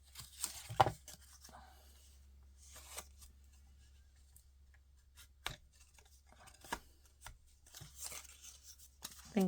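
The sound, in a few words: cutting paper for a paper craft card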